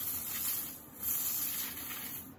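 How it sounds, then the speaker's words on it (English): A spray can hisses steadily while spraying into a homemade witch cauldron, a continuous close, breathy spray lasting a couple of seconds with a brief dip partway through. "I'm going to spray this in."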